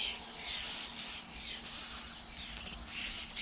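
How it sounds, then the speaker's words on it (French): Many birds chirp and squawk together in a continuous, fairly distant chorus, with no voices present. "Il y a un paquet d'oiseaux."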